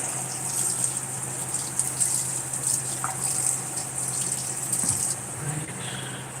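Liquid from canned peas, corn and green beans gushes steadily into a pot, a close, continuous splashing pour with no talk.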